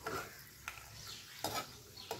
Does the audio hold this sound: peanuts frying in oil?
yes